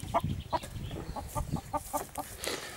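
A Legbar rooster on a home poultry farm gives a run of short, rhythmic clucks and calls, close by and moderately loud, with no talk over it.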